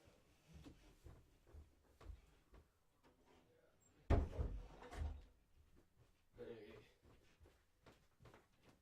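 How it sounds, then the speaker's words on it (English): A door is shut indoors with a single sharp thud, then a short clatter of movement, fairly close over a quiet room with faint background noise. "Sorry, I was just closing the door."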